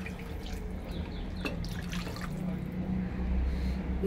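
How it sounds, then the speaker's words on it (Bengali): Spiced water poured into a bowl of pangas fish for steaming, a steady soft trickle and splash running close and continuous, with a faint low hum underneath. "মশলার জলটা দিয়ে দিচ্ছি।"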